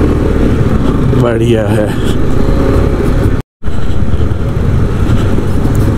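Motorcycles on an adventure ride near Warila Pass in Ladakh pushing through a small water crossing, steady engine rumble with splashing texture close by, a brief dropout midway, and a short spoken remark over the engines.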